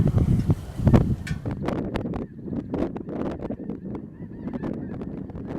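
A large flock of snow geese honks continuously on a gravel road in Missouri River bottom fields, many overlapping calls near and far, with some wind buffeting the microphone early on.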